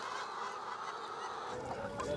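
Geese on a farm honk in a nasal, overlapping chorus, loud and close, with steady busy flock noise throughout.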